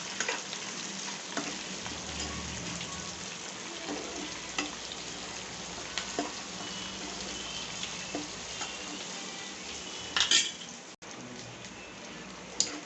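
Oil sizzles softly and continuously in a pan while lemon rice is being made, with faint scrapes and taps of stirring scattered through and a small clatter near the end.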